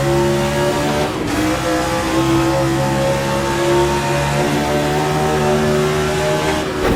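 A Gilles Villeneuve-inspired F1 car in Assetto Corsa holds a loud, steady engine whine in second gear through the corners, the buzzing harmonic tone sustained close up for several seconds with slight pitch shifts.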